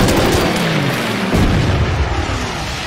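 Bombers attacking in the World War II strategy game Order of Battle: Blitzkrieg, with heavy, booming explosions rumbling continuously and loudly, one larger blast landing near the middle.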